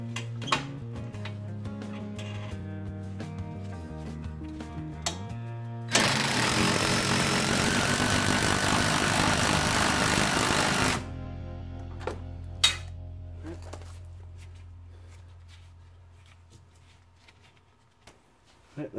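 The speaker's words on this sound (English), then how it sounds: "tighten it down with our wrench" A wrench and socket tighten a Prothane sway bar end link on a Ford Mustang, giving a loud burst of dense mechanical noise for about five seconds midway, framed by quieter clicks, taps and a low steady hum.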